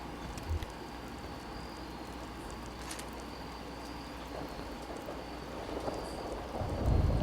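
Video game rain in Fallout 4, a steady hiss of rainfall alone with a low rumble of thunder building toward the end.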